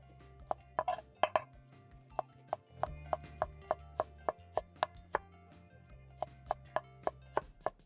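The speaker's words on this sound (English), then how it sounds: "I'm going to be dicing up my coriander as the green bananas are cooking" Knife dicing fresh coriander on a cutting board, a steady series of sharp, close chops at a brisk even rhythm, with a low hum of green bananas cooking for matoke in the background; no talking.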